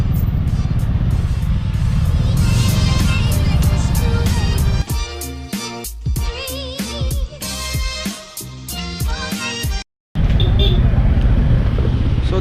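Cars and motorcycles crawl in a traffic jam near the temple at Gokarna, making a dense wash of engine and road noise with revving. Voices and tonal, music-like sounds are mixed in later.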